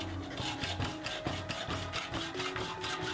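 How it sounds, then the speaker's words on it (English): A metal file rasps across aluminum in quick, rhythmic strokes, each pass a close, gritty scrape repeating steadily with no voices. "I had a lot of filing to do"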